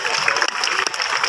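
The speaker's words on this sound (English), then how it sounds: "give yourselves a round of applause because you are absolutely right." Clapping from an audience at a night safari show in Singapore, a dense burst of applause that carries through the whole short moment.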